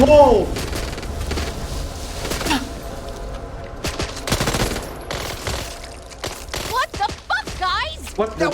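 A grenade blast in the video game Back 4 Blood, followed by bursts of rapid gunfire, heard amid game sounds with a player talking.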